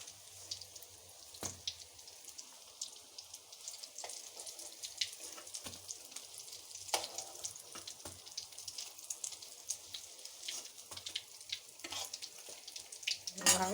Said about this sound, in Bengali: এভাবেই সব ভাজবো আর কি।